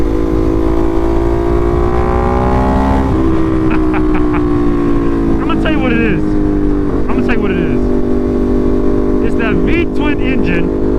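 A Ducati Monster 1200cc V-twin with an SC Project exhaust drones steadily and loud from a riding position, its pitch dropping slightly partway through while someone talks over it.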